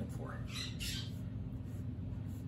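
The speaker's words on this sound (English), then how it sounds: "that's my wife's bird, Raphael." A pet bird kept indoors gives a couple of sharp squawks over steady background hiss in a room where oil paints are being mixed, while someone talks throughout.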